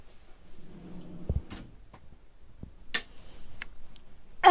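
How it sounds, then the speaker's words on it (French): A cutlery drawer in a camper van kitchen slides and knocks shut, giving a few sharp close clicks and thumps spread over a few seconds in an otherwise quiet interior. "Ensuite, la cuisine, donc nous retrouvons notre tiroir range couvert."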